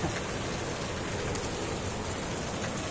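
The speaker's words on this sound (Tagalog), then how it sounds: "Ngayon sobrang lakas ng ulan." Heavy rain pours steadily outdoors at a sales office in Amaia, a dense, continuous hiss of drops pounding surfaces without letup, loud and close, with no talk over it.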